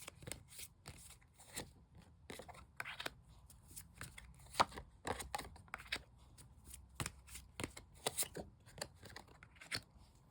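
Tarot cards being shuffled and drawn, a quick run of crisp riffling and slapping clicks, close and fairly soft, with no talk over it.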